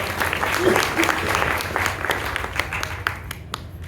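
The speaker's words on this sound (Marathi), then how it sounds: "सगळ्यांनी टाळ्या वाजवून अभिनंदन करावं." An audience at a devotional group's 43rd anniversary gathering in Indore breaks into steady applause, dense clapping that holds for a few seconds, then thins out toward the end.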